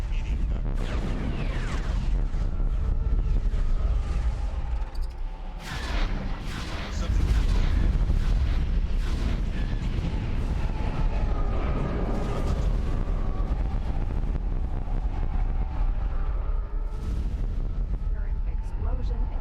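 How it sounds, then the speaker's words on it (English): Explosions in a space battle from the Star Wars Interworlds mod for the Starsector game, a dense run of deep booms and blasts, loud and continuous, with weapon fire layered over rumbling impacts. "Explosion imminent."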